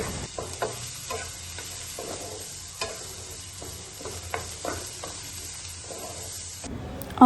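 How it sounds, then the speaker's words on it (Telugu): Onions frying lightly in oil for veg Manchurian: a low, gentle sizzle runs underneath while a spoon stirs and taps the pan in irregular clicks and scrapes, close and fairly quiet. "కొంచెం సేపు ఆయిల్లో ఫ్రై చేసుకున్న తర్వాత వీ విల్ యాడ్ ఆనియన్స్ని మరీ ఎక్కువ ఫ్రై చేయకండి, లైట్గా ఫ్రై చేసుకోండి"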